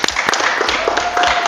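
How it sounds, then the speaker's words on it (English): A studio audience on a dating game show claps in a quick, uneven burst of hands, fairly close and lively, with scattered sharp claps over a busy background. "So clap now. So clap!"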